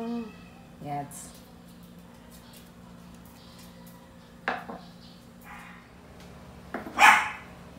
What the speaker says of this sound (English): Why is my doggy so noisy?